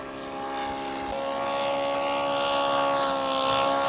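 A scale model aircraft with an OS 120 engine flies by, its loud steady buzzing drone holding close and dipping slightly in pitch partway through as it passes, with no talking.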